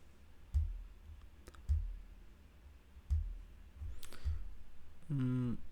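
Computer mouse clicks during spreadsheet work, four or five sharp, isolated clicks spaced about a second apart, close and quiet against a faint background, followed by a brief electronic tone at the end.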